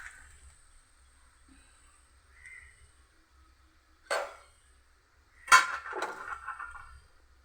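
Eggs cracked open on a kitchen counter make two distinct sharp knocks a second or so apart, followed by a wet squishing spill, in otherwise quiet surroundings.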